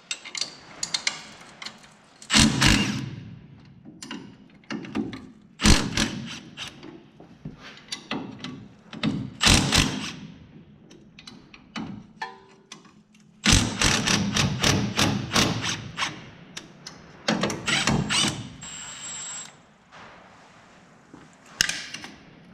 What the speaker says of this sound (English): I'll undo the upper control arm just with 2 12mm